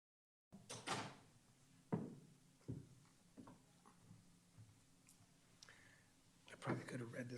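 A door opens and shuts in a city council chamber in Newark during a council meeting, giving a few dull thuds and clunks spread over several seconds against quiet room noise and faint murmuring.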